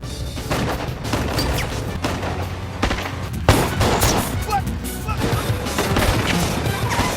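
Rapid bursts of gunfire and sharp impacts crash over a busy, driving action soundtrack during a car chase between limousines, with a loud bang near the middle and voices briefly mixed in.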